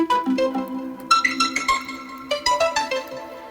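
A soloed synth pluck with hybrid reverb plays a bouncing melodic line of short tonal notes over a sustained lower tone, each pluck ringing into a soft wash, clear and upfront with no speech.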